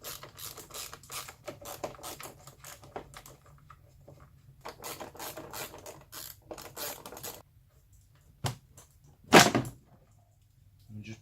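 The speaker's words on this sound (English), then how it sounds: "now what we're going to do is just crack these bolts off" A ratchet cracks loose the 7mm airbox bolts on a Ford Focus 1.0 EcoBoost, sounding as bursts of quick clicking pawl strokes up close, followed by a couple of sharper clunks as the bolts free.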